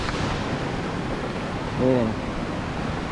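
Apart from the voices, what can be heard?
waterfall at Poza El Perol, El Salvador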